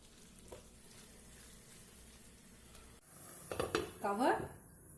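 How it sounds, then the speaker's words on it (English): A spoon scrapes and clatters in a pan of vegan bolognese made with mushrooms, lentils, dark soy sauce, ketchup and chili powder, starting after three seconds of near-quiet and building into a close, uneven burst of stirring. "Give it a mix."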